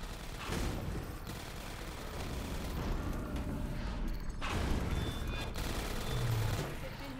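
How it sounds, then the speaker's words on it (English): Automated turrets fire in Half-Life 2: Episode One, a dense stream of rapid gunfire running through the whole stretch, with heavier bursts partway through, mixed with game sounds and voices. "Careful, I hear turrets."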